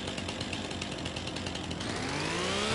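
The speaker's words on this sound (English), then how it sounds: "I'm using a steel chainsaw" Steel chainsaw cutting in the farming video game Farming Simulator 25, a loud continuous buzzing engine drone with a pulsing rasp that rises in pitch toward the end.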